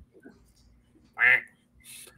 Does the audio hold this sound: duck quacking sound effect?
yes